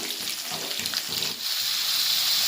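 Chopped onion fries in a pan for a drumstick curry, giving a steady hissing sizzle that grows denser and louder toward the end, with a few soft clattering stirs.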